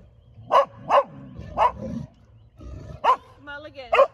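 Dogs barking close by in sharp repeated bursts, with a growly low voice between barks.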